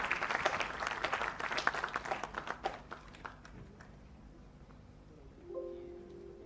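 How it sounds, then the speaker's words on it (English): Audience at a pharmaceutical research conference claps in a burst of dense applause that thins into scattered claps and fades after a few seconds, followed by quiet room tone and a faint hum. "Give a big round of applause,"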